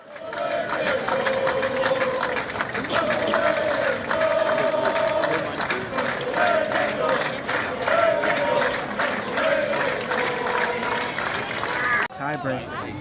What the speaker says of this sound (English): The crowd here is very, very into this match.